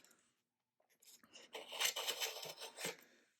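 A blade scrapes and shaves along the fiberglass-covered edge of a cardboard high-power rocket body tube in short, close, rasping strokes after a brief silence.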